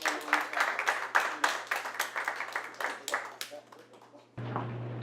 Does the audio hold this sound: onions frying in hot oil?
no